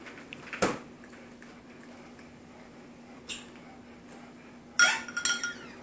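Metal pots and pans are handled in a quiet kitchen: a single clank, a faint knock, then a cluster of clattering clinks near the end over a low steady hum.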